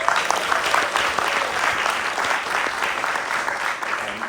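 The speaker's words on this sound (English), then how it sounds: "Give everyone a round of applause," A theater audience at a film Q&A gives a dense, steady round of applause that holds at an even loudness throughout, with no voices over it.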